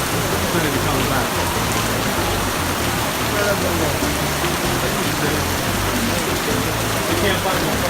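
Rain pours down outdoors in an unbroken, fairly loud wash of pattering drops, with indistinct voices faintly mixed under the downpour.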